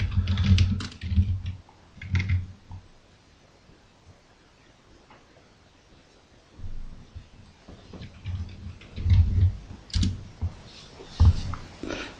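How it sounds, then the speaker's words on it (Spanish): Computer keyboard typing in bursts of rapid clicks, with a quiet pause in the middle before the keystrokes pick up again; no talking. "Está hablando del teclado."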